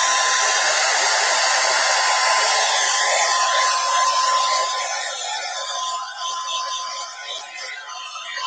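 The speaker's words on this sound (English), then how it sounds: "So we're going to speed things along here with the hairdryer." A hair dryer blows steadily and loudly up close, drying a second coat of paint on a purse, with a constant whooshing hiss and a faint motor whine that shifts slightly as it moves.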